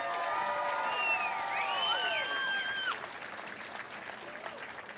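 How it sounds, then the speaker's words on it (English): A crowd at the DanceRites 2024 Indigenous dance competition heats applauds and cheers. Shrill whistles and whoops ring over dense clapping for the first few seconds, then steady applause carries on a little softer. "How about a round of applause for that"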